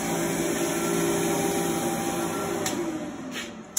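A steady, loud blowing whir of a pet grooming dryer drying a Portuguese Water Dog, running continuously nearby, with a constant high whine over a broad airy rush.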